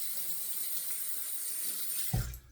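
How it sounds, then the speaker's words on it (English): A faucet runs water through an open Berjaya SE safety razor fitted with an AC blade, a close, steady splashing stream that breaks off sharply near the end. "rinse some water through it"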